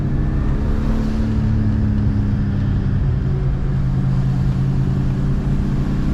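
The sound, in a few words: turbo Dinan BMW 535i E34 driving on mountain road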